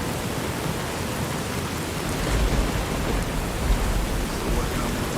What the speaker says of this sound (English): Waiting for news under such rain.